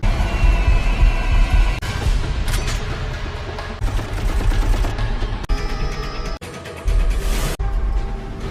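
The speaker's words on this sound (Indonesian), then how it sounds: "Dan disinilah terjadi baku tembak di antara mereka." Film gunfight between detectives and robbers, bursts of gunfire and rapid shots interrupted by abrupt cuts, loud and chaotic with mixed action sounds and no speech.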